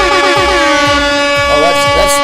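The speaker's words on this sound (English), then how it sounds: "That air horn should wake everybody up." A loud, blaring air horn sounds continuously at close range, with a voice talking underneath.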